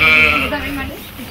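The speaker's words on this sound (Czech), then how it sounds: "Mají ovec, no." A sheep on a farm bleats once, a short wavering nasal call close by, with speech heard in the same moment.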